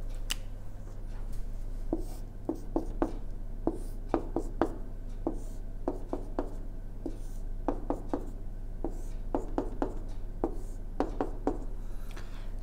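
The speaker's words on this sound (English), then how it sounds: "I'm going to draw a tree diagram." A pen scratches and taps in short irregular strokes as a tree diagram for a probability problem is drawn by hand, steady under a low constant hum, with no voice.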